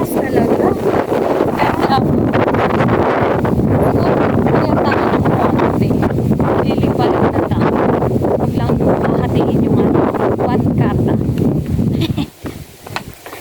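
Strong wind buffets the microphone outdoors in a rural Philippine neighborhood, a loud continuous roar and rustle lasting most of the clip, with someone talking over it before it drops off near the end.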